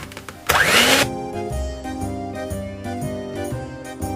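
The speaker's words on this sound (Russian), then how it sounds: "Чистым миксером хорошенько перемешаем это все." Electric hand mixer whipping egg whites with sugar for tiramisu, a loud burst of whirring followed by a steadier, quieter motor hum under kitchen background music.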